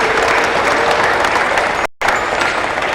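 Loud, dense audience applause greets a rangoli artist at a Dr. Babasaheb Ambedkar event, continuous close clapping with a very brief cut partway through.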